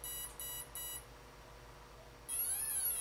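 Three short, high electronic beeps come from a 45 amp RC speed controller, followed after a pause by a longer warbling tone, all close and clear over a faint, steady background hum.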